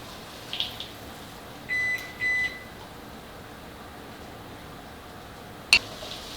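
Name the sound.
kitchen timer beeping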